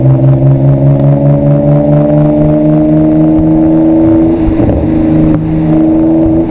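A BMW 535i F10 exhaust drones loudly at steady revs in third gear, around 3,000 to 4,000 RPM. The tone drops as the throttle lifts, and a few brief crackling pops follow.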